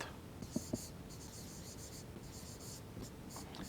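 Chalk or marker writing a math solution on a board, scratchy strokes in short bursts throughout, quiet and close, with faint voice sounds underneath.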